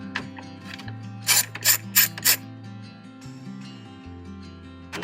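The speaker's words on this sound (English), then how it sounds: "Take this center screw out." A ratchet tool clicks away at the center screw of a Jeep JL dash panel near the cigarette lighter, giving close rapid pawl clicks with a few louder bursts of clatter in the middle and no speech.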